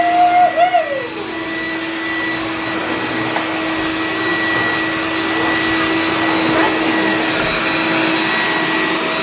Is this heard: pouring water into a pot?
no